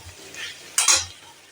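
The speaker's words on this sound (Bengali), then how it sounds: "এবার আমি এটাকে একটু হাই ফ্লেম করে নাড়াচাড়া করে" Potato and cauliflower curry stirred in a pan over a high flame, a spoon scraping and swishing through the mixture with a soft sizzle, one brief louder scrape in the middle, close and fairly quiet.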